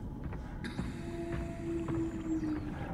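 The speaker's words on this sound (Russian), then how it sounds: "Хотя так вроде поют киты" Whale song in Soma's deep-sea setting, long sustained tonal calls gliding and holding steady over a low underwater rumble, eerie and drawn out.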